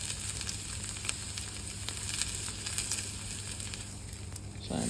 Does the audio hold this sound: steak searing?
yes